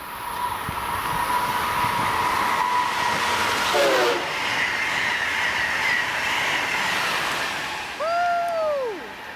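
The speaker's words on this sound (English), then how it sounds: "It's a surprise Acela." An Amtrak Acela train passes through Croydon station on a hot day, a loud continuous rushing roar with rail clatter, and a bright two-tone horn sounds near the end.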